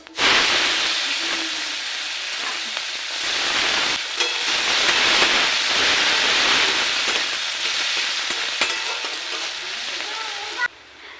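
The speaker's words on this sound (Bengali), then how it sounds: "পেঁয়াজটা ভাজা হয়ে গেছে" Onions sizzle in hot oil with bay leaves, dried red chillies and cumin seeds, a loud, continuous hiss and crackle, close by, broken by a brief pause and stirring sounds.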